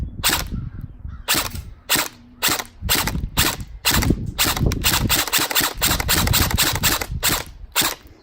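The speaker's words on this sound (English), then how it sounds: "now I'm gonna shoot them and test out the accuracy and the speed" Valken ASL Kilo airsoft gun firing at water balloons, a rapid string of sharp close snapping shots, single shots first, then dense near-continuous bursts.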